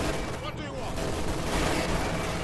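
Sustained gunfire barrage in the World War II strategy game Company of Heroes 2, dense overlapping shots rolling continuously under a player's excited voice.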